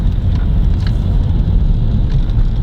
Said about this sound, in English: if you get over that diesel clatter